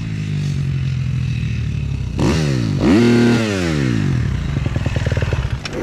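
An old, battered motorcycle arrives close by, its engine revving up and down in several rising and falling sweeps before settling into a rough, clattering idle.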